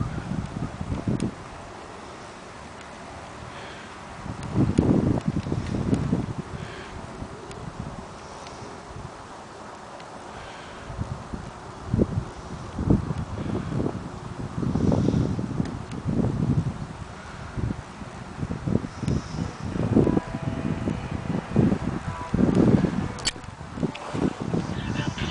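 Gusts of wind sweep across an outdoor yard in uneven surges, rustling and buffeting the microphone between quieter lulls for about twenty-five seconds.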